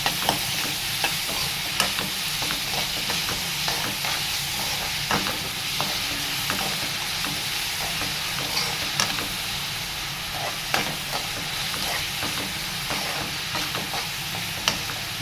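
Soya chunks (meal maker) with salt fry in a pan, giving a continuous loud sizzle with frequent small pops and occasional stirring clicks, close and steady throughout without talk.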